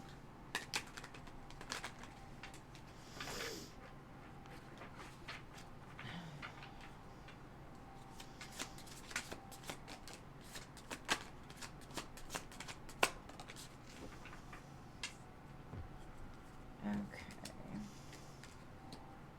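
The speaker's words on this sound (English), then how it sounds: "I'm gonna pull some love cards." Tarot cards are shuffled at close range, with quiet riffling and rapid papery flicks and taps in irregular bursts over a soft background hiss, with no talk.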